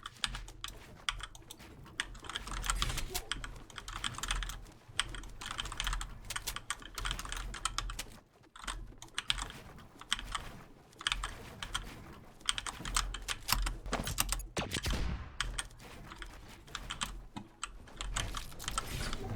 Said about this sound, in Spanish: esta es la calidad de sonido que tiene estas teclas mecánicas de HyperX Red